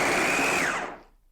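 A fufu machine's motor mashing cassava at speed 1, spinning with a high steady whir that winds down and stops after about a second, with no talking.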